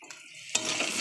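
Whole cardamom, cloves, cinnamon, black peppercorns and cumin seeds hit hot oil halfway through, bursting into a sudden loud sizzle that keeps crackling steadily to the end after a quiet start.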